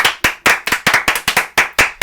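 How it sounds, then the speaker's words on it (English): About a dozen sharp, close hand claps in a quick rhythm, loud and isolated, greeting a baseball player's home run milestone. "So again, nice big round of applause for Miguel Cabrera."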